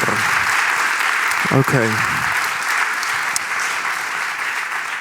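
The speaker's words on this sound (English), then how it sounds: "please give a round of applause for Stefan Alspeer" A seated audience applauds steadily for a presenter, a dense, even wash of clapping that fills the whole stretch, with a brief spoken word from a man partway through.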